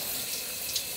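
Hot shower water running in a bathroom, a steady close hiss of spray pouring without pause, alone and fairly quiet.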